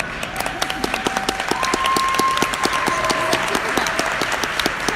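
An audience at a live Thrive event claps in steady, dense applause, many hands overlapping into a continuous close patter with sharp individual claps standing out throughout.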